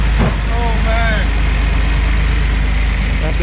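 A Datsun 240Z engine idles after sitting three years, a steady, fairly quiet low rumble with a smooth even rhythm, and a voice briefly sounds over it.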